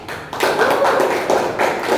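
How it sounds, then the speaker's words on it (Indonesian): Students in a classroom give a short round of clapping after a history presentation, a handful of hands making quick uneven slaps at close range. "Oke, tepuk tangan dulu untuk Rakib."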